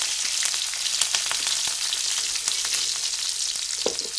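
Mustard seeds, cumin, chopped onion and green chili fry in hot oil in a pan. A steady, close sizzle with sharp seed pops runs throughout, loud and continuous, with no voices.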